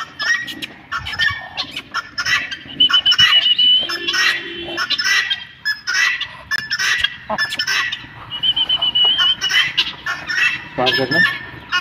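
A pair of Aseel chickens calling loudly and close, with repeated harsh squawks and honking clucks, some overlapping, over a continuous stretch.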